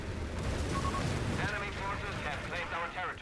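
An exploding tank in the strategy game Company of Heroes 3 gives a thick, rumbling boom and continuous crackling blast that rolls on for several seconds, dense and loud amid battle noise.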